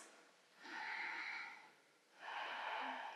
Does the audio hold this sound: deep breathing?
yes